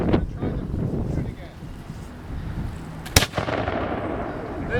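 A flintlock musket fires outdoors at a Patriots Day event, one sharp loud report partway through, with wind rumble and voices around it.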